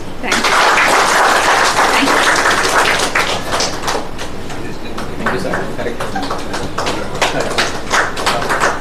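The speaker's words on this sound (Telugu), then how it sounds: "please claps" A classroom group claps together, a burst of dense applause that thins out into scattered claps, mixed with voices and room noise.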